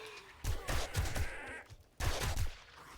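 Assault rifle fire at a gun range in 7 Days to Die: two separate bursts of rapid, punchy shots, close and loud, with a short quiet gap between them.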